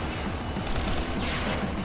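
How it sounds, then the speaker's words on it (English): Gunfire aimed at the player in a video game, a dense continuous rattle of shots with a low rumbling layer, steady and loud for the whole stretch. "I'm being shot at."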